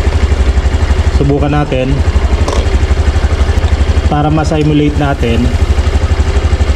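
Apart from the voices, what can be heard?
Honda Genio scooter engine idling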